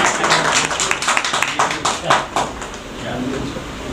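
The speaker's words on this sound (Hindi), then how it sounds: "अगर आप लोगों के हाथ खाली हो तो ताली बजा सकते हैं।" An audience at a Hindi poetry recital claps in a brief burst of scattered, uneven hand claps, fairly close and loud, thinning out after a few seconds.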